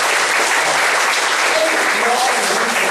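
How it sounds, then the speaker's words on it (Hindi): An audience at a lecture applauds loudly, with dense, sustained clapping that fills the whole moment at a steady, even level. "जोर से तालियां बजाइए।"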